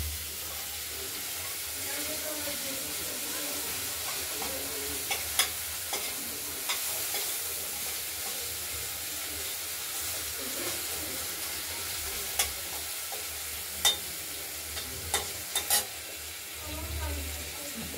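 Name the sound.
ground spice paste frying and stirred in oil, rohu curry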